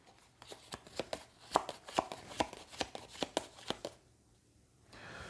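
Two playing cards from the Shadowrun Crossfire card game shuffled by hand, a quick series of about a dozen crisp, evenly paced snapping flicks close up, then quiet.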